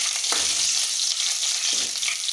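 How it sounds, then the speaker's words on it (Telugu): Curry leaves and seasoning seeds sizzle in hot oil for upma, a close, steady crackle with a couple of soft stirring scrapes. "కరివేపాకు, పోపు గింజలు కొంచెం ఫ్రై అవ్వాలి."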